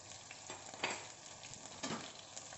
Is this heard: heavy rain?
no